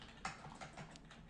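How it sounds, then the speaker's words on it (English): Keys clatter softly on a computer keyboard as a website address is typed, a quick run of faint, close clicks with no voices. "You can just type that in right there"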